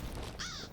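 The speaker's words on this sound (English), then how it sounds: "It sounds like crows." A single crow gives a short, harsh caw at a moderate distance over faint background hiss.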